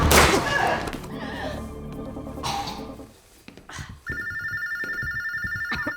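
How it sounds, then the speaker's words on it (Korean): A telephone rings in a tense thriller scene, its steady electronic trill starting partway through after sharp impact and crash sounds, the repeated ring fairly loud and alone. "바로 그때 전화를 걸어온 라모나가 엘 브이트레바로 오라고 통보하지요"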